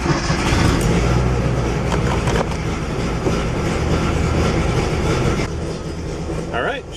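A 1982-era Datsun 240Z engine cold-starts on choke at 46 degrees, settling into a loud, rough, continuous rumble with a steady low drone, while a person talks over it.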